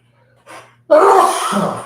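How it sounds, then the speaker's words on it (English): A single loud sneeze bursts out close to the mic after a short sharp inhale, then trails off. "I apologize for that big, enormous, very manly sneeze."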